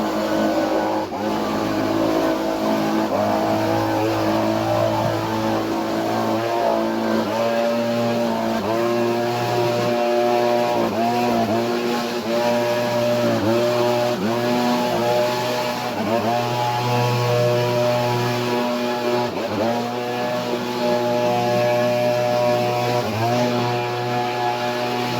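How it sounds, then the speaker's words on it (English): Leaf blower clearing debris out of a flowerbed, a loud, continuous engine drone with a steady pitch that wavers slightly as the blower is swept back and forth. "next I'm gonna come through with the blower,"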